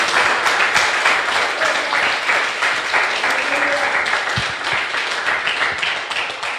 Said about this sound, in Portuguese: Podem aplaudir ao Senhor.